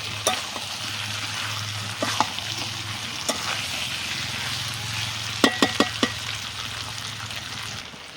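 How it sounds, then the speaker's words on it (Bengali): Onion, spices and ginger garlic paste fry in a meat pan, a steady sizzle under a low hum, broken by sharp spatula clicks and a quick cluster of scrapes near the end. "ভালো করে মশলাটা কষিয়ে নিলাম"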